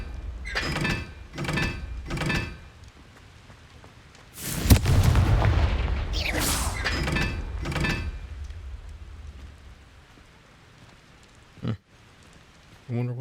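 A Confringo blasting spell explodes in the Hogwarts Legacy video game, a loud broadband blast that rumbles for several seconds after brief voice-like sounds, followed by quiet and a short sharp knock.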